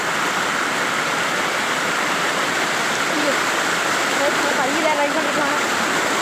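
Stream water rushes and gurgles steadily into a pool, close and loud, a continuous broadband flow with faint voices beneath it.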